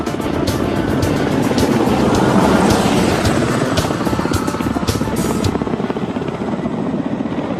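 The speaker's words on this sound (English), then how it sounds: "Ka-25 submarine Hunter starts off from the deck of the aircraft-carrying cruiser to perform a demo flight" Soviet Kamov Ka-25 anti-submarine helicopter lifting off from the deck of an aircraft-carrying cruiser, its loud, steady rotor chop and turbine roar dominating throughout, close and continuous.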